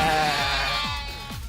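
Goats bleat in the video game Yakuza: Like A Dragon, with several drawn-out, wavering bleats overlapping one another at close range, loud at first and easing off slightly toward the end.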